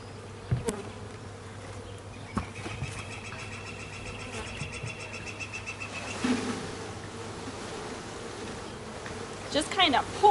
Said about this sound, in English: I'm gonna dump all of these bees in a big pile inside of the hive.